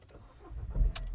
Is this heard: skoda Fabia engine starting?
yes